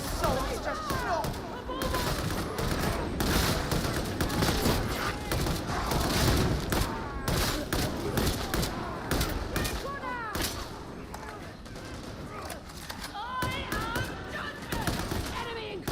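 An autogun fires in Warhammer 40,000: Darktide as steady, spaced bursts of gunshots that repeat through the whole stretch, mixed with game effects and a voice talking underneath.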